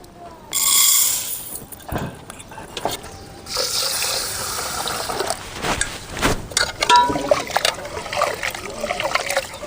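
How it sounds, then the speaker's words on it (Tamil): Dry moong dal grains pour into water in a vessel, a sudden rushing splash and patter followed by scattered trickling, dribbling and small splashes as the lentils settle. "பாசி பயிறு தண்ணியில் கொட்டிக்கலாம்."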